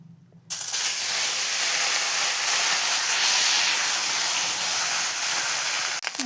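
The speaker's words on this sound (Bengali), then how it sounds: "আর আমি মাছগুলো ভেজে নেবো।" Small fish frying in hot salted oil, a loud, steady, hissing sizzle that bursts in suddenly and holds strong throughout, ending in a brief crackle.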